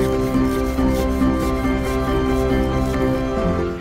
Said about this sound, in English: So this is not sponsored by Passport America, but that's what I'm using to scrape the windows.